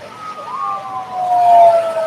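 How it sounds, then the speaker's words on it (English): A wailing siren rises and falls over a dull background, moderately loud and a little distant, with no one speaking. "Always a bunch of sirens."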